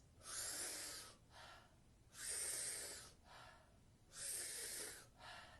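Three cycles of forceful, rushing Wim Hof power-breathing inhales each followed by a softer exhale, close to the mic in a steady rhythm, with no talking.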